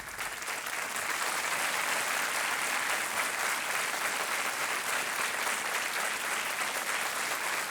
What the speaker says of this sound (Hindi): तालियां बजती रहें देवी और सज्जनों